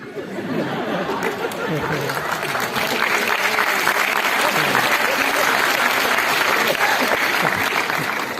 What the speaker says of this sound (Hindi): ये तालियां पता है कम क्यों बजी है